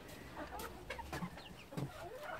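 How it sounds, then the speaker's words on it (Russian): Black Copper Marans chickens, about two months old, clucking in a coop, with several soft, scattered calls at close range over a steady background hum. "Черно-медные вот в одной. Там четыре курицы."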